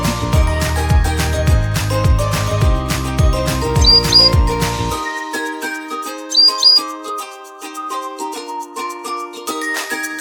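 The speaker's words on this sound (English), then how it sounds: "B for bird." A couple of brief, high bird chirps, one near the middle and one later, ring out over bright children's music with a steady bass backing.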